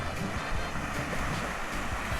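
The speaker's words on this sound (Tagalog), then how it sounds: "Ang sarap pakinggan ng alon." Steady broadband wash of ocean surf rolling onto a beach in Ilocos, Philippines, in the early morning, continuous and fairly loud, with a low rumble and no voices.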